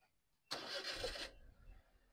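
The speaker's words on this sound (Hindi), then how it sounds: "अब गाड़ी को स्टार्ट कर लो।" A car engine cranks and catches during a driving lesson, a loud burst of about three-quarters of a second that settles to a low idle rumble, with no talk over it.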